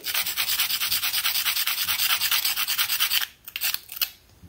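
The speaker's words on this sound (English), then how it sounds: "So if we rub these rocks together," Sandstone and limestone rocks rubbed together by hand, a loud, close, rhythmic gritty scraping in quick regular strokes, then a few slower, broken rasps before stopping.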